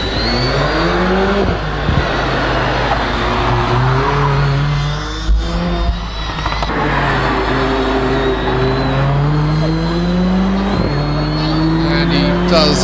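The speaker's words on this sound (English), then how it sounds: "Jordan March in the A45 AMG Mercedes. Now making his way around the hairpin in the little hot hatch." Mercedes A45 AMG hot hatch at a Legend of the Lakes hillclimb, engine revving hard and rising through gears as it rounds a hairpin, loud and close with steady harmonic whine and shifts, a commentator talking over it.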